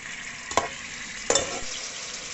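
Three medium sliced tomatoes fry in about a cup of oil in a pot for mutton pulao: a steady close sizzle, broken twice by short scraping stirs.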